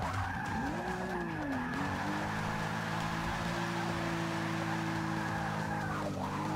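In the racing game Forza Motorsport 6: Apex, a car drifts with a long, continuous tire skid squeal over a steady engine drone. The pitch bends down early on, then holds level, clear and fairly loud.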